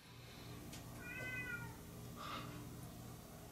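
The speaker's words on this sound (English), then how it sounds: "Being sabotaged by a kitty cat?" Domestic cat meowing twice indoors, a drawn-out tonal meow followed by a shorter one, fairly close over a quiet low hum.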